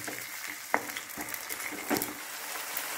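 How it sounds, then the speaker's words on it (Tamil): Tomato paste fries in a pan while garlic curry is being made, giving a faint, steady sizzle with a few soft stirring clicks. "இந்த ஸ்டேஜில் நான் அடித்து வச்சிருக்கிற தக்காளி பேஸ்ட்டை இதில் ஆட் பண்ணுறேன்."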